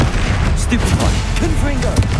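Magic spells such as Stupefy, Confringo and Expelliarmus blast in rapid succession during Hogwarts Legacy combat, a loud, dense barrage of booming impacts and whooshes with a shouted voice over it.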